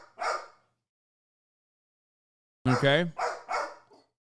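A small dog barks sharply, one yip followed after a pause by a quick cluster of three or four barks, close and loud.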